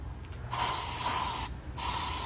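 Two long hissing bursts from a handheld spray bottle misting the leaves of houseplants, close up, separated by a short pause, with the final burst running until the bottle is empty.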